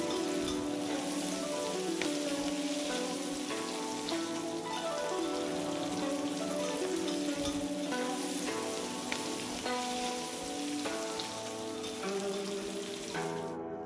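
Thickened sweet and sour sauce with cornflour bubbles and sizzles in a pan, a steady, dense crackle of small pops running throughout at moderate level.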